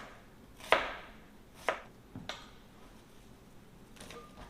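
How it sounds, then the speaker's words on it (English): Half an onion chopped with a knife on a cutting board: three or four sharp, close thuds spaced about a second apart, then quiet. "I have a half onion. And I'm just going to chop this"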